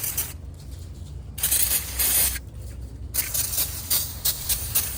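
Brake cleaner sprayed in bursts onto a corroded car battery during a 2016 Ford Taurus battery swap, loud close hissing blasts separated by short pauses, with no voices.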